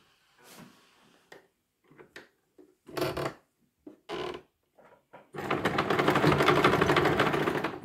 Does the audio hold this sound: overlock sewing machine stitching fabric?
yes